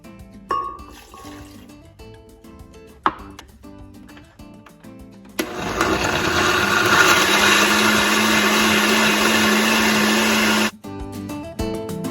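A blender purees cooked chiles with their cooking liquid for red beef pozole: a few clinks and knocks, then a loud, steady whirring motor runs for about five seconds before cutting off abruptly.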